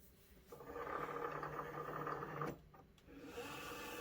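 A Cricut Maker 3 cutting machine pulls its mat in after the load button is pressed, giving a steady close motor whir with a brief pause and clicks before the whirring resumes.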